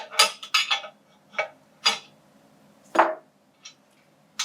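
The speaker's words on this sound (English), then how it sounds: "To adjust the meter in the pipe, you'll first start by loosening the clamping nut" Sharp metallic clicks and taps from loosening the clamping nut on an insertion flow meter fitted in a pipe, several separate close knocks with quiet gaps between them and no talk.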